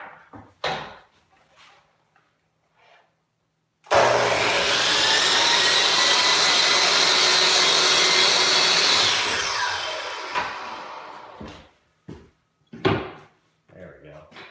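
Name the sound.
chop saw cutting wood trim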